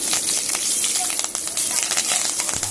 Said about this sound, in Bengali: ফোড়নের সুন্দর গন্ধ বেরোনো পর্যন্ত আমি ফোড়নটাকে ভাজবো